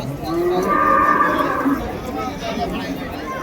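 A bull's low rings out through a noisy crowd at the Vaniyambadi cattle market, with people chattering nearby throughout.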